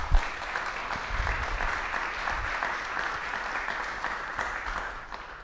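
Attendees at an annual meeting applaud a sponsor, a steady crowd of clapping hands that starts with a few bumps and thumps nearby, then continues evenly before fading toward the end.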